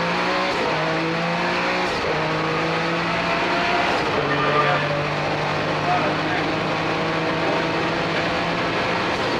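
A 1990 Porsche 962 race car at a motorsport event holds a steady, high-revving engine drone with several gear shifts. Engine tones rise and drop throughout, under constant track noise, while a commentator talks over it.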